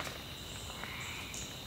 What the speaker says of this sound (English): and I can record frogs,